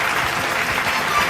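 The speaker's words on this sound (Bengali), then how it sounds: "জোরে হাততালি ladies and gentlemen" A brief burst of dense audience clapping at a film award show, steady and full throughout the short moment.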